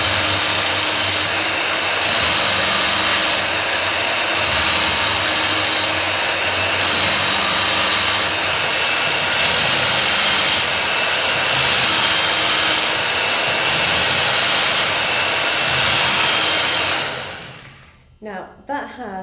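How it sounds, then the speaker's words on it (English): A blunt knife is drawn through the coarse slot of an I.O.Shen Knife Wizard KE198 electric sharpener. A loud, continuous motor whine and grinding rasp holds steady up close, then stops abruptly near the end. "spend about a minute in the coarse section, just gently going left, right, building up that perfect V on your knife."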